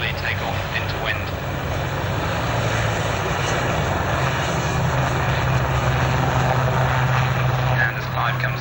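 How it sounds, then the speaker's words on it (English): A Royal Navy Westland Lynx helicopter at a 1991 airshow in Leicester gives off a sustained loud turbine and rotor drone under public-address commentary. "the Navy Lynx operating from flight decks at sea"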